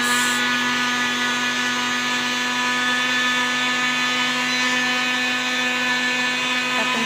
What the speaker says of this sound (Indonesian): Kemudian kita blender guys.